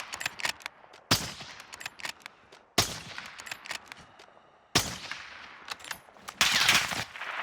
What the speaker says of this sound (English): There, now he's finally shooting back.